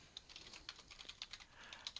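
Quiet clicking of keys on a computer keyboard while entering Cisco router commands, an uneven string of light taps over about two seconds, close and faint.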